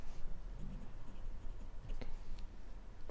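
A brush or pen writing the Chinese character 南 on paper, with soft scratchy strokes that come and go over steady low background noise. No one speaks.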